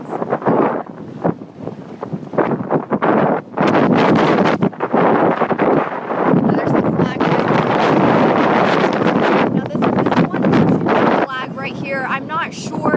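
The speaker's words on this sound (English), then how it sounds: "I really wanted to show you guys what it's like out here. Look at that. How strong the winds are." Strong wind blasting outdoors in the Ocean View area of Norfolk, loud, roaring gusts buffeting the microphone continuously, with a person talking at moments under the noise.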